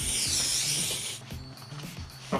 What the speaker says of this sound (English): We'll be spraying it on the underside of the leatherette as well.